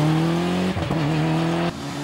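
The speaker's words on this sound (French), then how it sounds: "les 2 Toyota Celica GT4 de Sébastien Deratte et de Philippe Tafono qui prennent le commandement du rallye." Toyota Celica GT4 rally cars run a special stage at the 2009 French rally cup final, a loud steady engine drone with a brief dip and shift in pitch partway through, no voices.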